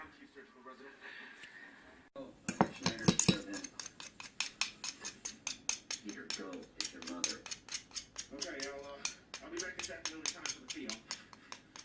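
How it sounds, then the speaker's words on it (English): A spoon stirring and clinking against the side of a container, rapid repeated metallic taps in a steady rhythm after an initial louder clatter, with a voice murmuring faintly in the background. "I will try to mix this with a spoon."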